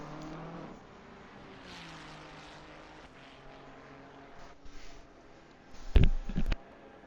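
A race car heads out on its warm-up lap at the Misano track, its engine droning at a distance and building, then a few close, loud bursts of revving and popping near the end.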